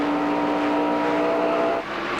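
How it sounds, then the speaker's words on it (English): NASCAR Winston Cup race cars, including Fords, roar around the Dover track during the 1995 MBNA 500, a loud steady engine drone from the pack with a sustained whine that drops away near the end. "Now Ricky Rudd will come into the picture here, the 2nd place car in the tied Ford"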